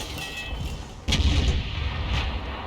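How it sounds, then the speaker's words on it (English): A tank cannon fires in a tank video game, a Kampfpanzer with a 105mm gun shooting at an EBR Hotchkiss: one sudden loud boom with a heavy rumbling tail, followed by a second fainter blast and low engine drone. "Instead, he fires around into the EBR Hotchkiss."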